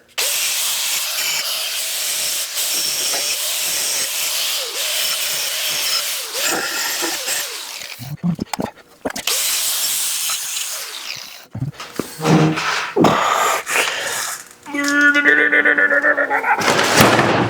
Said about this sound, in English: I'm going to try and weld up that bracket.